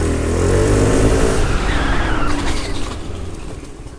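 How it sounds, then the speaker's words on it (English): A Royal Alloy Tigara 300 scooter braking hard during a test, loud engine and road noise up close that winds down as it slows, with no talk. "Now, the braking of the Royal Alloy, I would say you'd have to stop earlier."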